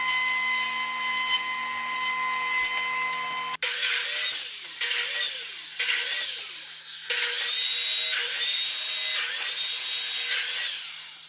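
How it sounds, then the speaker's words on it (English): A shop jointer cleans the edge of a board, its steady high whine broken by grinding passes as the wood feeds across the cutterhead, loud and close with no voices. "I'm going to run that through the joiner, clean that edge up."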